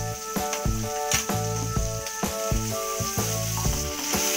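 Ginger garlic paste fries in a pan with onion and tomato, a constant sizzle under rhythmic tapping and stirring knocks, with a steady background hum.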